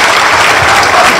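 A wrestling crowd applauds loudly and steadily after a vertical suplex at a Pro Wrestling NOAH European event, dense clapping filling the whole moment.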